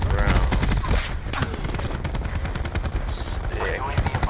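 Explosive rounds fire in a multiplayer shooter video game, with loud, dense rapid bursts of gunfire and sharp repeated cracks running throughout, and a voice talking over the shooting.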